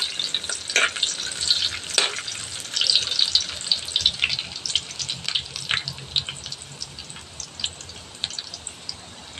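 Garlic and onion sautéing in hot oil for a bitter gourd dish, a steady close crackle and sizzle with bursts of spatula scraping and stirring, no voices.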